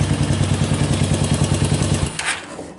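A motorcycle engine idles with a steady, throbbing exhaust beat, close and loud, then quiets and trails off near the end with a brief rattle; no one speaks.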